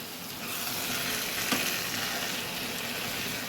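Fried chicken pieces returned to a pan sizzle loudly and steadily in hot oil, a brief stir-scrape in the middle, close and continuous.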